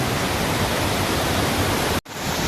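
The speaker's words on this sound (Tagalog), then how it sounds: "Oh, we're now here at Maayhay Falls, Laguna." Majayjay Falls in Laguna roars as a steady, dense wash of falling water, loud and constant throughout, with a brief cut near the end before the rush resumes, and no voices.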